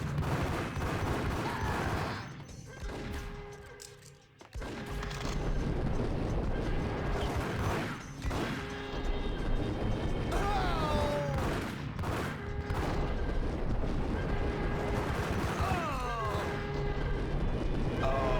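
Gunshots in the game Max Payne, a dense near-constant barrage of firing with a brief lull early on, loud and busy with clattering effects throughout.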